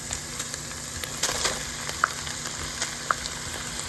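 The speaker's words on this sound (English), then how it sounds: "Here I am adding the container of chili." A container of chili goes into a hot pot for Southern hot dog chili and sizzles in a steady fry close by, with a few small clinks and spatters and no talking.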